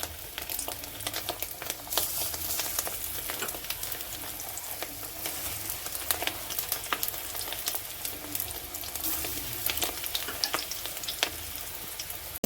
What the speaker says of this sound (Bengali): ডিমের বড়াগুলো দিয়ে ভেজে নেব।